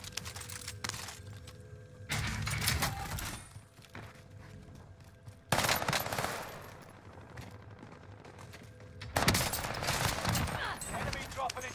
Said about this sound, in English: This gun shoots crazy fast